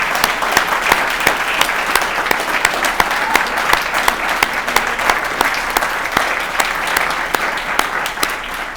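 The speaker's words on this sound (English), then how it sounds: "let's do one more round of applause for all 7 of tonight's Unsung Heroes." A banquet audience at an awards dinner gives a sustained round of applause, with dense, crisp clapping that stays loud and even from start to finish.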